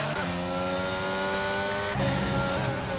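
Mercedes and Red Bull race cars in a racing game drone on at speed, with the engine pitch shifting sharply as one spins around, carrying on continuously through the moment.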